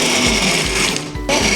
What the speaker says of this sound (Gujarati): ચાલુ બંધ મિક્સરે આપણે ક્રશ કરી લીધા